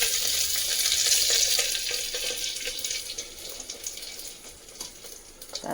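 Curry leaves and whole cumin hit hot oil in a pan, bursting into a loud, bright sizzle that slowly settles into a softer, crackling fry, with no voices.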